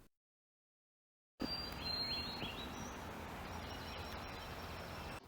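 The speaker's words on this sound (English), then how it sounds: "The next day dawned with birdsong" Morning birdsong around an off-grid cabin, after a moment of silence, with faint high chirps and calls over a soft, even outdoor hiss that holds steady to the end.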